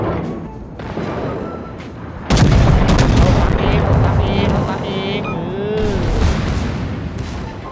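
Naval guns firing in the World of Warships game, a sudden loud boom followed by sustained rumbling blasts and battle noise, with a voice talking over it.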